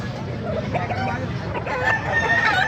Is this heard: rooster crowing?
yes